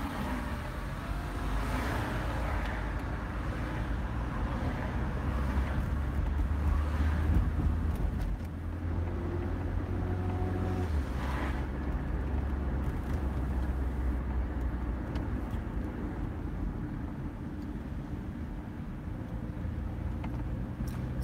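An overheating car with a turbo drives along Pico Blvd, its engine a low steady drone from inside the cabin with road and wind rumble, swelling slightly as it accelerates and then holding a constant hum.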